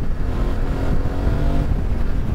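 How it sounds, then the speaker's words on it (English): Riding a Yamaha Tenere 700 with its CP2 twin engine produces a steady, throaty rumble, close and loud, mixed with wind noise and holding a constant pace throughout with no talking. "you can't deny the sound of the Tenere CP2 engine"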